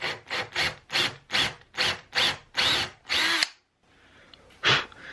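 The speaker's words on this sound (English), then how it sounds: "I'm just gonna put a hole right here in the center of this cleat" A drill fitted with a 5/16 bit bores a hole into the center of a wooden cleat in repeated short bursts, about nine close, loud pulses, then a pause and one final burst.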